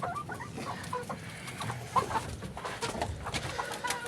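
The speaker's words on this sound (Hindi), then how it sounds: "तो ये है हमारा असील मुर्गा जो आपको सामने नज़र आ रहा है।" Aseel chickens cluck intermittently nearby, short clucks and squawks scattered over a low, busy background.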